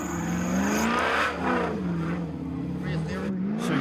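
A 4x4 off-road vehicle with four-wheel steer revs hard through a tight 180-degree turn on a timed competition run at the Suzuki Extreme 4x4 Challenge, a steady loud engine drone under continuous commentary.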